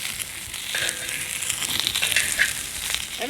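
Jalapenos, onion and garlic roast in a hot pan with a steady broadband sizzle and crackle, moderately loud and close, with occasional stirring scrapes and no talk.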